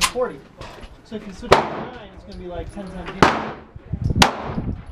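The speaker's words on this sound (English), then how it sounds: "So Dad's going for his first shots now." Handgun shots at a shooting range, one of them a .45, ring out as three or four sharp, loud cracks spaced about a second apart. Indistinct voices chatter between the shots.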